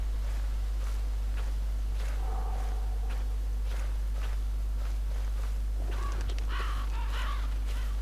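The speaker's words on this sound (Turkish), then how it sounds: "Kargalar daha sonradan geldi." Crows caw several times amid ambient wind in the horror video game Slender: The Arrival, with soft footsteps underneath and the calls growing more prominent toward the end.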